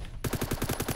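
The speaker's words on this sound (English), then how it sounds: "Yeah, the Beowulf is one powerful battle rifle." Rapid automatic battle rifle fire from the Beowulf in a video game, loud and close, with evenly spaced repeating shots that start abruptly after a brief quiet moment and continue to the end.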